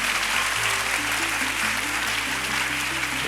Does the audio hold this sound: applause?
yes